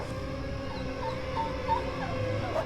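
A dog whimpers and yips in a forest. The thin, high whines recur faintly over a steady background, and no clear bark stands out.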